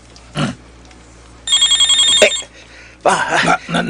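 A mobile phone rings with an incoming call in two loud electronic bursts, while people talk briefly before and between the rings.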